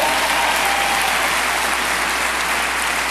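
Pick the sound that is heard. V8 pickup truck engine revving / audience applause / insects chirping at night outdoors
audience applause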